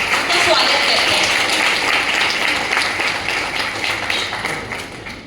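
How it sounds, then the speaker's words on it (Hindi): An audience claps together to welcome a speaker onto a stage, a dense, steady wash of applause that slowly fades toward the end. "तो एक बार और हम तालियों के साथ उनका स्वागत करते हैं।"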